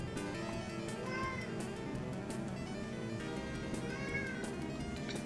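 A cat meows a couple of times, short rising calls sitting under a busy background of arcade racing game music and effects.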